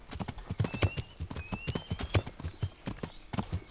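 Horse hooves clip-clopping in a steady gait while riding through brush in the medieval game Kingdom Come: Deliverance, with a faint whistling tone above and a soft voice murmuring now and then.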